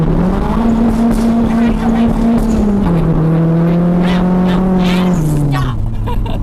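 A Nissan R34 Skyline's engine revs hard while driving, a loud sustained drone that climbs and shifts pitch through gear changes, with voices in the cabin talking over it.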